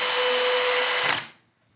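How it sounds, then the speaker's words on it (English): A DeWalt cordless drill whirs at high pitch for about a second, driving a 1 5/8 inch drywall screw, steady and close, then winds down to silence. "try to drill a 1 5/8 drywall screw here and just see how it feels"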